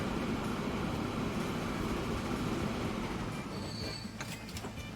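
Trains hauling logs in Transport Fever 2 roll steadily with a dense rumble and wheel-on-rail clatter, and high squeals and creaks rise near the end. The sound is loud and continuous, with no voices.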